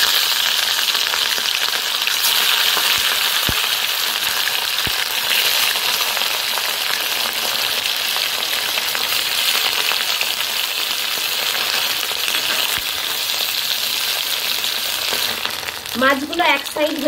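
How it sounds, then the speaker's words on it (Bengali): Rohu fish pieces frying in about three tablespoons of oil in a wok, a dense, continuous close sizzle that holds steady for the full length, with a few faint clinks and a brief stir near the end. "রুই মাছগুলো ভাজবার জন্য কড়াই বসিয়ে তেল দিয়ে দিয়েছি"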